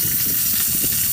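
Mustard seeds, cumin, dried red chilies and curry leaves tempering in hot oil on a stove, giving a steady close sizzle and crackle in a short burst, with no voices.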